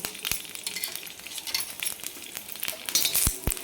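Onion and dried coconut roast in a little oil in a pan for a spicy chicken masala, with a steady sizzle and sharp scraping stirs of a utensil against the pan.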